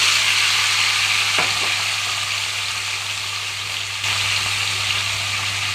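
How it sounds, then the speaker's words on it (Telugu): Tomatoes frying in hot oil over a low flame for a tomato pachadi, a steady close-up sizzle with a faint scrape or stir partway through and no voices. "ఆయిల్ అంతా హీట్ అయిన తర్వాత లో ఫ్లేమ్లోకి టర్న్ చేసి టమాటా మొత్తం వేసుకుంటున్నాను"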